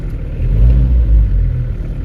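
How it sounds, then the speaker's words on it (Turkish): A car engine is revved while warming up after a cold start, giving a deep close rumble that swells and eases over two seconds. "Yine gaz vererek gösteriyorum,"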